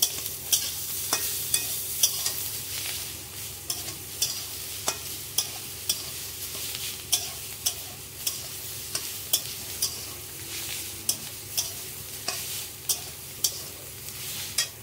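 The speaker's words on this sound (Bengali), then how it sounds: "এবার নারকেলটা দিয়ে ভালো করে ভেজে নিতে হবে" Drumstick greens fry with grated coconut in a pan, a steady soft sizzle broken by regular sharp scrapes and knocks of a stirring spoon about once a second, close and with no talking.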